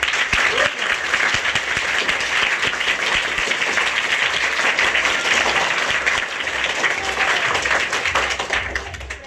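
A large audience at a public talk in Surat, Gujarat claps loudly together, a dense and steady wave of applause that holds for the whole stretch and fades slightly at the very end.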